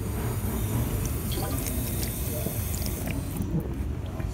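An Elkay drinking fountain in a restroom at the Alamo in San Antonio runs with a steady, close gushing water stream at good pressure, continuous and fairly loud throughout with no talk.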